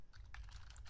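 Quick, faint clicks of keys being typed on a computer keyboard while entering code, a short burst of several light taps close by.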